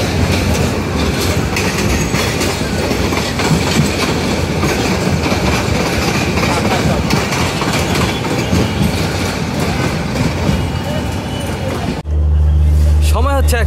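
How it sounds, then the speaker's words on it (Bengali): Dhaka-bound Kishoreganj Express pulling into platform 7 at Kamalapur station, a loud, steady rolling rumble and clatter heard from on board, ending in a sustained low tone as the noise cuts off. "ঢাকা কমলাপুর রেল স্টেশনে 7 নং প্ল্যাটফর্মে ঢুকলো আমাদের এই ঢাকাগামী কিশোরগঞ্জ এক্সপ্রেস ট্রেনটি"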